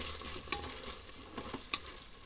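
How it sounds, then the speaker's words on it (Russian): Ketchup, grainy mustard and fried onion are stirred together in a frying pan: a soft, low sizzle runs underneath, with a couple of sharp scraping clicks from the utensil. The sound is quiet and close, with no talking. "Смешаю это все с жареным луком."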